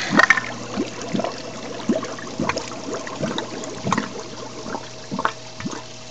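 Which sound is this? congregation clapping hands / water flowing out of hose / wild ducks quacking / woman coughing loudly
water flowing out of hose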